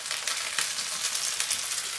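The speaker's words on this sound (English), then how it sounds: "It's sizzling away now there." Fresh ling fish, half an hour out of the water, frying in a pan with a steady close sizzle and crackle that carries on without a break. Nobody speaks.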